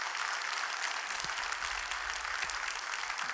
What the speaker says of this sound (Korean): 우리 이 교구 하나님께서 큰 은혜와 부흥을 주시는데 사역하는 분들을 위해서 여러분 큰 박수 한번 해주시면 고맙겠습니다.